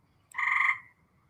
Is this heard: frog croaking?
yes